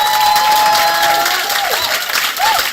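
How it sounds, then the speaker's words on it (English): Awards ceremony audience applauding and cheering, a dense steady wash of clapping with crowd noise and a few whistles or shouts throughout, loud and sustained. "Another round of applause, please"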